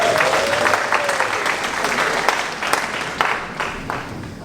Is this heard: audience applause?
yes